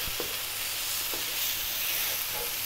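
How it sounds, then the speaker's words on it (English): Tomato paste sizzling steadily on lively heat in a pot of Middle Eastern beef stew, a continuous close frying hiss with a few soft stirring knocks and no talking. "What we wanna do is cook this tomato paste out."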